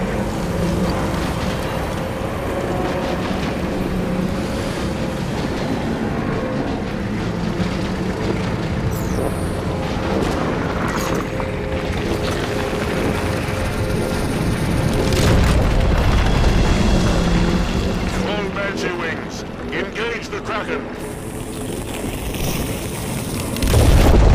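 Heavy explosions and booming rumble fill a Halo 5: Guardians battle as the Kraken moves. The deep roar is continuous and loud, it swells around the middle, and a sharp blast comes at the end.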